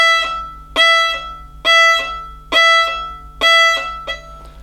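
Violin staccato bow strokes, short and detached notes in a loose, uneven rhythm. There are about six of them, with one small extra note near the end. Each note decays quickly into silence, played up close with no talking.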